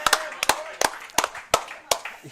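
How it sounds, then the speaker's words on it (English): A small audience claps for a senior defensive lineman on a college football coaches' show, a handful of sharp, uneven claps spaced out over a couple of seconds at close range. "Y'all give a big round of applause for Fred."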